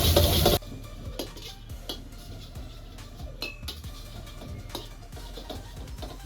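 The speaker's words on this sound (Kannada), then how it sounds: "ಇವಾಗ ಇದನ್ನು ಕ್ಲೀನಾಗಿ ಫ್ರೈ ಮಾಡ್ಕೊಳ್ಳೋಣ ಮಸಾಲನೆಲ್ಲ" Masala being fried and stirred in a pan for ghee egg rice, a loud burst at the start, then quieter clinks and scrapes of a utensil against the pan over a faint sizzle.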